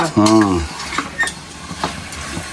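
Mutton for ghee mutton biryani goes into a pot and is stirred, making scattered clinks and scraping sounds, with a short vocal sound near the start.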